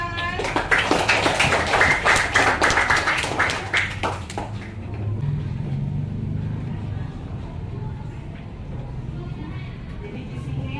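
Students in a classroom clap together for several seconds in a dense burst of applause. It then fades into room noise and low murmuring.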